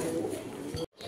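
Spanish pouter pigeon giving a soft, low cooing call, close and fairly steady through the short stretch before it cuts off abruptly near the end.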